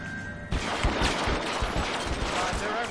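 Gunfire erupts in the crime game L.A. Noire: a sudden volley opens a rapid, ragged string of loud shots that keeps crackling throughout, with faint voices underneath.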